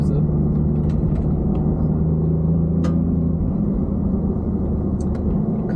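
A 2019 Ford Raptor truck's engine drones in a low, steady rumble while driving in manual gear, with a held engine tone that shifts midway and a few faint clicks over continuous road noise.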